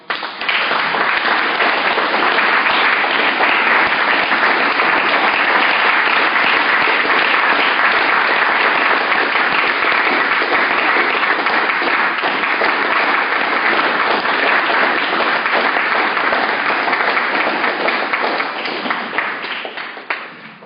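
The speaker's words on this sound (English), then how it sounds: "Clap it up for Mama." A packed room's audience claps loudly and steadily for about twenty seconds, a dense unbroken wash of applause that fades only at the very end.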